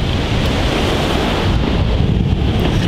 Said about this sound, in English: But as you probably can also see, the waves are freaking huge.